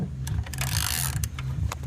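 Ratchet on an extension tightening an oxygen sensor on a 2006-2008 Audi A6/A4 3.2L, a rapid run of close, crisp mechanical clicks heard alone.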